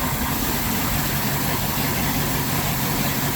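A boat engine runs at a steady idle, a constant low rumble with a broad hiss over it and no change throughout.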